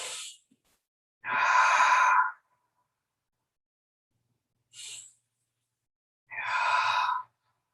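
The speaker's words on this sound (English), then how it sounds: "breathing in through the nose and out through the mouth" A person breathes intensely, drawing air in through the nose and pushing it out through the mouth, with two strong bursts alternating with shorter ones, separated by silence.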